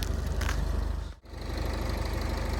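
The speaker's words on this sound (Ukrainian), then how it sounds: "як там працює мотор." A Renault Koleos 2.0 dCi diesel with automatic gearbox and 4WD idles with the hood open, a steady close rumbling drone with a fast even pulse, briefly dipping mid-clip before settling back.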